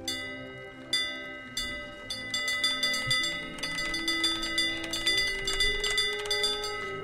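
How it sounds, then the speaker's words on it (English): A ship's bell in the pirate game Sea of Thieves rings repeatedly with bright metallic strikes. The strikes come in a quickening series of ringing clangs, each sustaining and overlapping the last, loud and close. "There's a bell."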